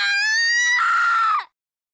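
A loud, drawn-out scream from the video game Digimon Cyber Sleuth rises in pitch, then breaks into a strained, wavering cry before cutting off abruptly, heard alone.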